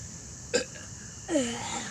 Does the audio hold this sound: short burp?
yes